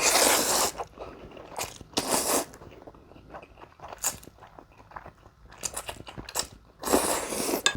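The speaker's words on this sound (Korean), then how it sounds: "짜장 먼저 먹어보겠습니다." Someone eating Pulmuone stir-fried jjajang instant noodles, with close, loud bursts of slurping and chewing that come and go in uneven clusters, and no talking.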